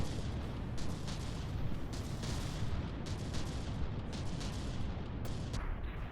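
Battleship guns pounding a turret in the naval combat game From the Depths, a dense rumbling barrage of overlapping booms and bursts, steady and loud throughout without talk.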